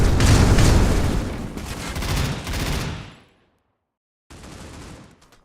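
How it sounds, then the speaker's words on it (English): A heavy barrage of grenades exploding in the C-OPS shooter game, loud overlapping blasts rumbling for about three seconds, then a sudden drop to silence before a fainter burst of detonations returns. "A heavy barrage of nades over towards mid."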